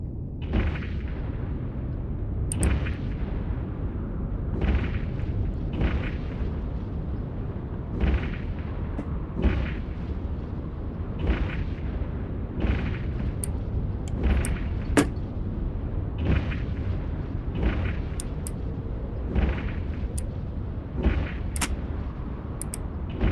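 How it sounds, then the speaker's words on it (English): Primary weapon fire from a spaceship in the EVE video game: a long, steady series of evenly spaced booming shots, roughly one every second and a half, loud and close over a low rumbling engine drone, with no talk. "I suggest you fire your primary weapon"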